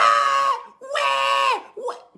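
A person voices a long, high, strained scream in imitation of a wild boar being slaughtered, two drawn-out cries and a short groan, close and loud.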